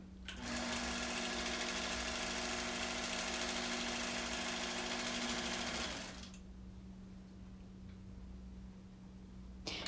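A sewing machine quilting a meander pattern across a quilt runs steadily and loudly for about six seconds, then stops, leaving only a low background hum.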